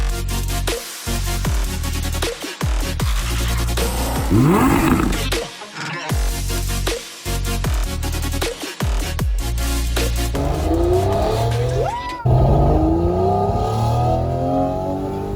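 A Pagani Huayra R supercar engine revs hard and loud, with repeated sharp throttle blips, rising roars and gear-change dips, ending in a sustained high-pitched wail, close and unaccompanied by talk.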